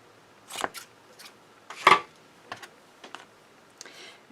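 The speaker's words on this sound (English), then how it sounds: "I am going to cut a piece off just a little bigger than what I need." Scissors snip through a strip of gold washi tape in a quiet crafting setup, with a few short crisp cuts and small clicks spread across the moment and one louder snip near the middle.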